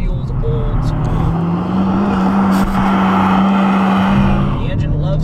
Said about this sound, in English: rev that engine out and you feel the four-cylinder buzz, all that Honda goodness coming right through your fingertips